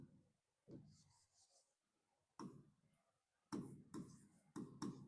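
Pen writing on paper during a Class 10 coordinate geometry math lesson, short scratchy strokes arriving in separate bursts, close and quiet, with silent gaps between them and no talk.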